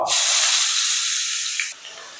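Chopped onions hit reused frying oil left from frying fish, setting off a loud, steady hiss of sizzling that fades slightly before dropping off abruptly near the end.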